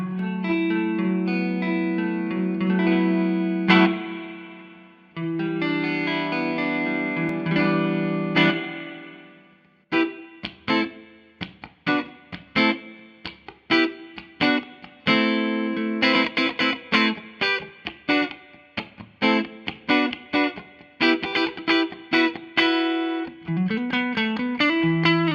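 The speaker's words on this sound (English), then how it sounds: "If anyone wants to go that high with reverb." Electric guitar played through a Laney LC50 tube valve amplifier with the reverb turned up very high, sustained chords blooming into a wash of echo, then choppier picked notes and chords with long reverb tails, heard alone.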